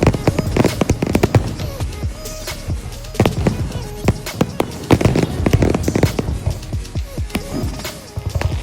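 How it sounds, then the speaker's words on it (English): Homecoming fireworks crackle and pop in a dense, irregular barrage of sharp bursts, some booming lower, others snapping, with crowd noise and scattered voices underneath. "we watched the breathtaking fireworks show"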